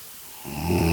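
Snoring swells in from near silence, a rough breathy rasp growing louder over a second and ending on a sharp snort-like peak, close and alone.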